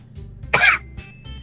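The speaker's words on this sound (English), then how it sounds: "So I cough up a lung." One person gives a single short, harsh cough close to the microphone, with faint room noise around it.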